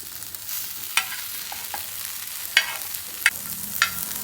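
Bitter gourd slices sizzling steadily in a hot pan, with several sharp scraping clicks as the pieces are stirred and flipped with a spatula, close and alone without talk.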